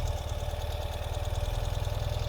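A 2021 Ural Gear Up sidecar motorcycle engine runs steadily in first gear, a close, even low rumble with a fast regular pulse and no talk over it.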